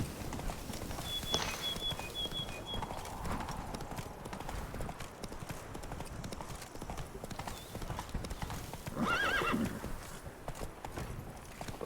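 Horse hooves clip-clopping steadily at a trot in The Witcher 3, with a brief whinny near the end and a rider's voice in the background.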